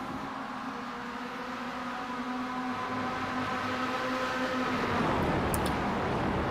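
Spec-5 race cars on the Road Atlanta circuit near turn 5, engines droning steadily with a sustained harmonic whine that rises toward the end as a car passes closer; no talking.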